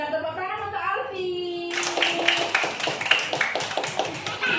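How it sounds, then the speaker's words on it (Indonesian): Children and a teacher clap hands for a young boy during a classroom song activity for a child with ADHD, a burst of fairly close, uneven claps following a brief sung phrase. "Pintar, tepuk tangan untuk Alfi."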